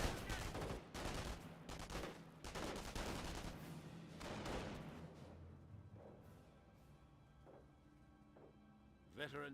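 Battlefield gunfire from a Company of Heroes match, machine gun bursts and scattered shots heavy in the first few seconds then thinning to sparse distant reports, with someone talking over the action.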